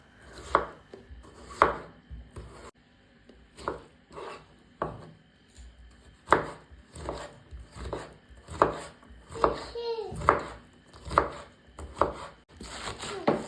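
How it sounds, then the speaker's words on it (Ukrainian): A knife chops a fresh cucumber into small pieces on a cutting board in steady, close thuds, about one or two strokes per second, with brief pauses between runs. "Також беру свіжий огірок 400 г та нарізаю його невеличкими шматками."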